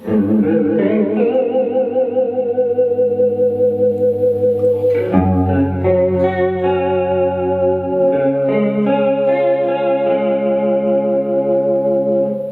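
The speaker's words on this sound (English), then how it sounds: "you can just turn it into a vibrato pedal" Electric guitar notes and chords ring out through a Catalinbread Adineko pedal with the blend fully up, giving a steady, wavering vibrato effect, loud and sustained, with no one talking.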